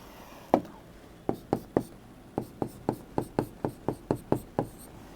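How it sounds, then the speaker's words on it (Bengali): Chalk or pen strikes a board in a classroom lesson, about a dozen sharp taps and strokes spaced irregularly, close and crisp, with no speech over them. "আমি একটু ভালো করে লিখে দিচ্ছি"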